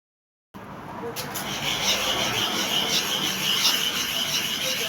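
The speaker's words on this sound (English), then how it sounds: "I use biscuit bone to rub the surface." A biscuit bone is rubbed back and forth across the surface of a super hard manual sharpening stone, a steady close scraping friction that starts abruptly and continues evenly.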